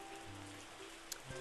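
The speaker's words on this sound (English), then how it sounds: "All right, that's a bit of rain." Rain patters steadily in the farming and winemaking video game Terroir, a soft even hiss of falling drops with a couple of faint taps.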